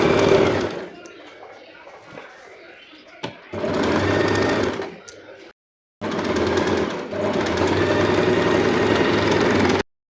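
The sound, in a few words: sewing machine stitching the back neck of a dress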